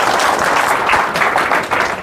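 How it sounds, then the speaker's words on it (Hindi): A crowd of teachers at a pension protest rally claps loudly and continuously for a visiting speaker, close and dense. "शास्त्री जी के लिए जोरदार तालियां।"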